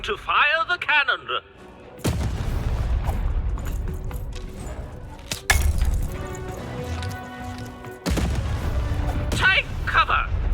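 Cannons fire in the video game Lost in Random, with sharp, heavy booms cutting in several times over a busy game soundscape of rumbling and mechanical clatter, while voices speak at the start and near the end.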